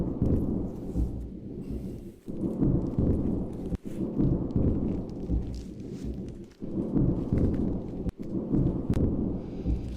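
Rumbling thunder sound effect played as a cue for a lightning round on a live comic book sales show, with heavy low rolling booms and rain-like hiss continuing for the full length, broken by brief sharp gaps.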